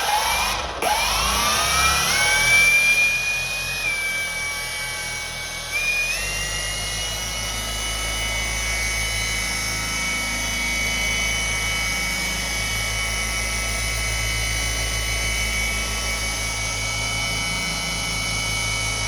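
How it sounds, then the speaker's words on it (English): A Shinemate EB351 cordless polisher runs at speed 4, a steady whirring motor drone that shifts pitch as it spins up, then holds a smooth, continuous hum close by with no talk. "I'm gonna adjust to speed 4 and let you just listen and see how it works"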